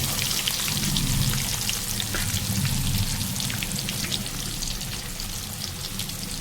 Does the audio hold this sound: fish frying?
yes